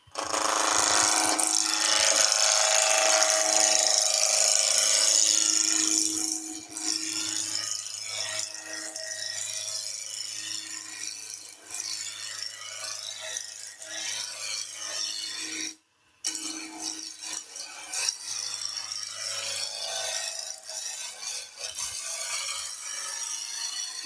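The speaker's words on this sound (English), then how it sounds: "Go and then back to the roughing gouge." A roughing gouge cuts a redwood pine staircase spindle spinning on a wood lathe, giving a steady, close scraping rasp that runs nearly the whole time with one brief break.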